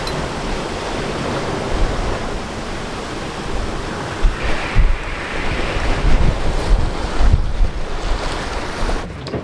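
Strong wind roars and gusts across the microphone while waves wash and slap nearby on a sailboat at sea, a constant rushing noise with occasional louder bursts.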